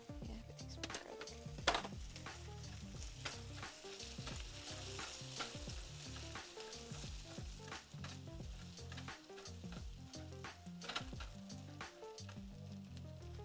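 Garlic frying in a pan with a steady, loud sizzle, broken by repeated scraping and stirring knocks throughout, with no talking.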